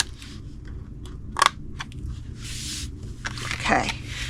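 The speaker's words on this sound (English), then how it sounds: "cut it to the second score line" Scissors snipping scored cardstock for a spring gift box, a few short crisp cutting bursts close by against a quiet background.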